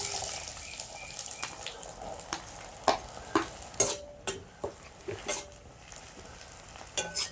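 Small shallots sautéing in hot oil with cinnamon bark and cloves for a village-style chicken gravy, a low sizzle under frequent sharp clinks and scrapes of a stirring spoon against the pan, with a brief splash of water.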